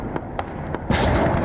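A tank cannon fires in the Call to Arms war game, a sudden heavy blast that bursts in after a few dull thuds and rolls on as a loud, sustained roar.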